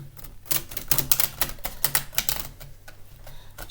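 Cards pulled and shuffled from a deck, a rapid run of crisp flicking and snapping riffles close by, loud, with no talk.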